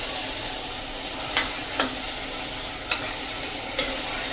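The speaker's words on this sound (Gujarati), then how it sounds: "હવે આપણે લાસ્ટમાં 1 ટીસ્પૂન જેવો ગરમ મસાલો નાખી દેશું અને એને પણ આપણે આ રીતે મિક્સ કરી લેશું." Garam masala is stirred into a moong curry in an oily pan, with a steady soft sizzle beneath a few distinct scraping strokes of the spoon, close and alone with no voices.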